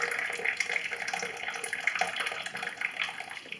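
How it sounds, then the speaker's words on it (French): Tea poured from high above into a glass makes a continuous splashing, bubbling stream that stays steady and close for the whole stretch, with no talking over it. "Pourquoi on sert le thé de très haut?"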